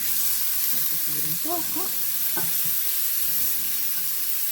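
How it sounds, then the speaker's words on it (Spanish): Chopped peppers, onion and tomato sauté in a hot pan with a continuous steady sizzle and hiss, a voice speaking briefly over the frying. "vamos a sofreír todos nuestros vegetales"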